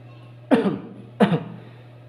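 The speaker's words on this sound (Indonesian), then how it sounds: "Mau batuk teman-teman" A person coughing twice, two short, sharp coughs about half a second apart, close and clear over a faint steady hum.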